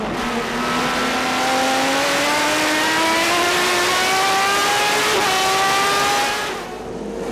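Onboard a Ford Turismo Carretera race car at a Buenos Aires race, its engine drones loud and close with a steady pitch that climbs gradually under acceleration, then eases near the end.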